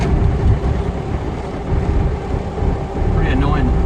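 A Toyota AE86 driving down a back road, its engine rumbling steadily in a low, continuous drone with cabin vibration and road noise, close and fairly loud throughout.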